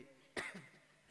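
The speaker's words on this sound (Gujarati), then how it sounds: "હા હવે ઉધરસ વધી જાય" A single short cough bursts out near the start, loud and close, followed by a faint trailing vocal sound, during a spiritual discourse.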